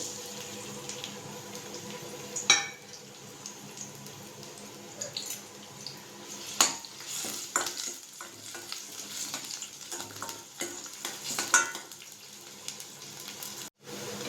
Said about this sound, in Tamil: வெங்காயம் பச்சை மிளகா கருவேப்பிலை சேர்த்து வதக்கிக்கலாம்